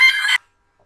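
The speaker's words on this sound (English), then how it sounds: "Go through the next one. Cockerel." Cockerel crow used as an alarm clock tone, a single short loud burst that cuts off abruptly and is followed by silence.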